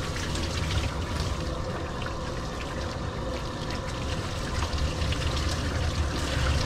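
Water running steadily from a tap or hose while rinsing, a continuous trickling and splashing stream with no pauses, close and moderately loud, without voices.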